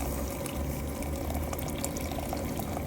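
Water is poured off blanched fish for a Thai fish larb, a steady, close, full splashing stream that runs without a break.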